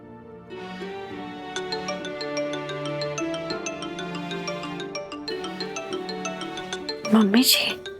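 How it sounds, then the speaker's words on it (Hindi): Phone ringtone late at night in a home, a melodic ringing tune playing steadily, then a brief sharper sound near the end. "इनका फोन इतनी रात को?"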